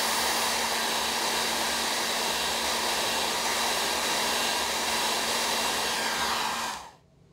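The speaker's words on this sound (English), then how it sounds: "A hairdryer is used to dry the spot for about 20 seconds." A hair dryer drying a chromatography spot on a paper strip during a leaf-pigment lab gives off a loud, steady whir with a constant hum, running alone and unchanged until it switches off near the end.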